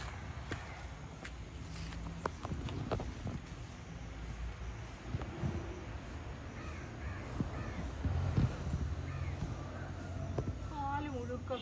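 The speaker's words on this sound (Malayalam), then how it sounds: "ഞാൻ പാഷൻ ഫ്രൂട്ടിൻ്റെ വലയിൽ കുടുങ്ങി കിടക്കുന്ന ഒരു കാക്കയാണ് കേട്ടോ കണ്ടത്" A crow tangled in passion fruit netting caws a few times at mid distance, its short calls scattered through steady wind noise and rustling, while people talk nearby.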